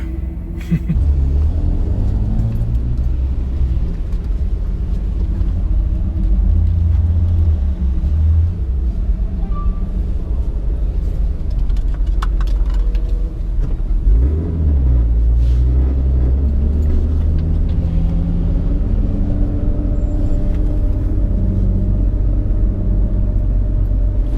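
A car driving on the Nürburgring circuit heads toward the Carousel corner, with a loud, steady cabin rumble of engine and road noise lasting throughout and engine pitch sweeping up and down as it accelerates.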